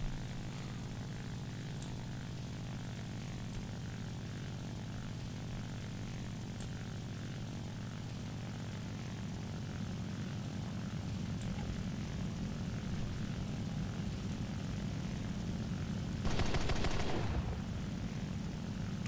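A steady droning propeller engine of a Japanese plane in War Thunder runs throughout, with a brief burst of rattling cannon fire near the end.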